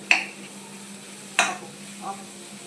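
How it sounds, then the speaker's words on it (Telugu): Maggi noodles with fried egg being stirred in a pan: three separate scraping, clinking strokes about a second apart over a faint steady hum, fairly close and otherwise quiet. "వేసేసుకొని మొత్తం మిక్స్ చేసుకోవాలి."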